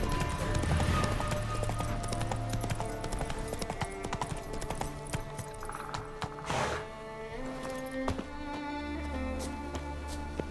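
Roach the horse's hooves clip-clop steadily in The Witcher 3, a continuous galloping rhythm under game music and occasional voices.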